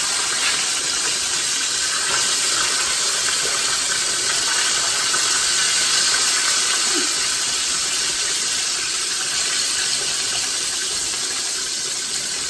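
Hamburger patties deep-frying in hot oil give a steady, dense sizzling hiss that holds evenly and fairly loud throughout, with no talking.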